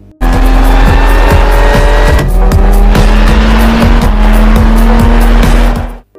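A sports car revs and accelerates away hard in a film scene, its loud engine roar rising steadily in pitch over about six seconds with tire squeal, close and with no talk.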